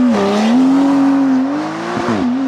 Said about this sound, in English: let's launch it